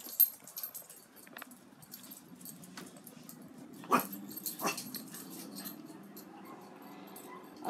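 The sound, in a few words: dogs howling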